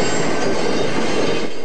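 Loud, steady wheel screech from a new Matangi commuter train running on Wellington's Johnsonville line, heard up close as a sustained grinding squeal layered over heavy rail rumble with no voices.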